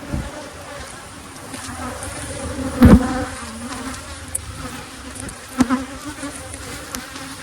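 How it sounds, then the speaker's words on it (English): Honey bees buzz around an open nucleus hive holding no queen, a steady close swarm hum with individual insects passing near, plus a couple of brief louder knocks. "field bees from here are going to fly back where these other bees are and join forces with them"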